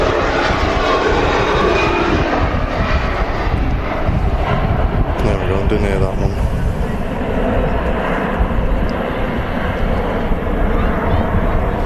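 Jet airliner taking off from Manchester Airport, a loud, steady engine roar that fills the whole stretch, with broadband rumble throughout and faint talk in the background.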